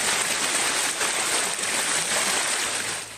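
Floodwater after heavy rain pours through city streets in Lahore, a steady, loud broadband rush close to the listener, without any speech.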